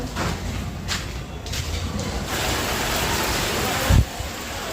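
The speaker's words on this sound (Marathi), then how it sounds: "खूप जोराचा पाऊस सुरू झाला आहे" Heavy rain roars steadily, a loud dense hiss filling the scene, with a brief thump near the end.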